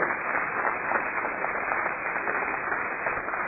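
An audience at a book talk applauds, a dense, steady wash of clapping that holds evenly from start to end with a muffled, band-limited quality.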